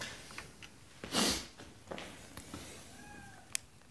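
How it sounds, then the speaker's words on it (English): A domestic cat gives a few faint, short meows in a quiet indoor space, with soft rustling between the calls. "That's my kitty cat."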